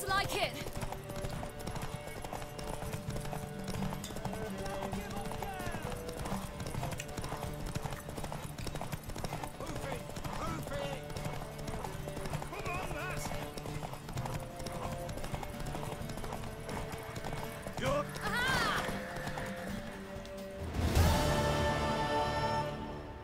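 Horse hooves clip-clop steadily in The Witcher 3 game, a continuous rhythmic trotting under game music and speaking voices, with a brief louder burst near the end.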